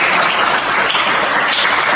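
A classroom of students claps loudly and densely for group 1 after its grade is announced, a continuous burst of applause with no talk over it.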